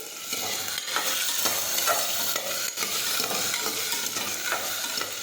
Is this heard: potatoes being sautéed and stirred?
yes